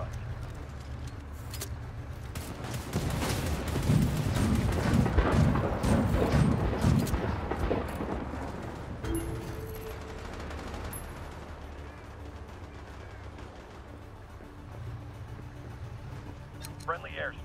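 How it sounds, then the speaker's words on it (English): Artillery fire and gunfire in the video game World War 3: a dense, rumbling barrage of shots and blasts builds over several seconds and then eases into a steady battlefield din. "Enemy artillery fire in."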